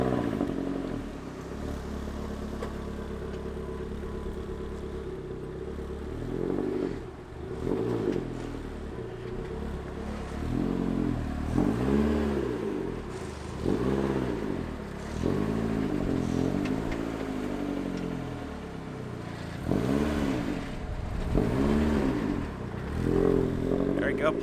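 A turbocharged Mazda Miata with a built engine creeps into a dyno shop, its engine droning steadily with repeated rising and falling revs and some rattling, close and fairly loud throughout.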